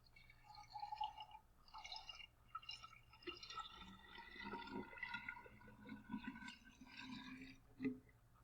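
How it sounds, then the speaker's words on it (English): Water pours from a one-liter jug into a glass pitcher, making a soft, steady trickling and splashing that continues throughout at low volume with no voices. "if I pour this liter into this pitcher, it will fill it up all the way to the top?"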